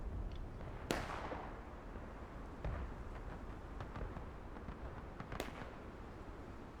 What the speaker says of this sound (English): Bad shooting, but it's okay. They are muskets after all.